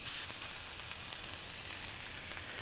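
A ground beef patty for a patty melt sizzles on a hot flat top, a steady close crackling hiss that continues evenly throughout with no talk.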